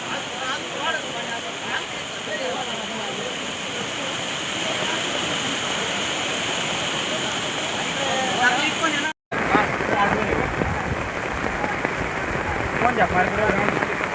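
Heavy monsoon rain pours down steadily during river flooding, a dense, continuous roar of water close by that holds constant throughout, with a brief cut partway through.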